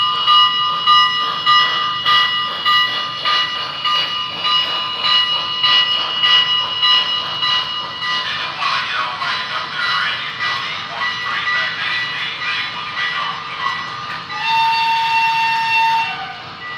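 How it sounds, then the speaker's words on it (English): Model track-cleaning train running on a layout with a BLI Paragon 2 PRR H-10 locomotive: a steady mechanical whir overlaid with sustained tonal humming, and a higher whistle-like tone near the end, with no speech. "And there goes the track cleaning train."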